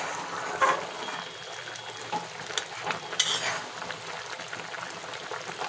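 A potato and onion curry bubbles and sizzles softly in a pan, with faint stirring clinks and a few brief scrapes against the quiet simmer.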